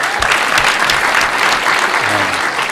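Applause from an audience at a screening and discussion event, dense steady clapping throughout, close and loud, filling the room without speech over it.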